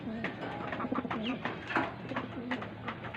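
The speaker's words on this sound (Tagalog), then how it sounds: "nakatakas po is inahin po natin na kalapati" Soft, repeated coos from a breeder hen pigeon sound close by over a muffled background with faint voices.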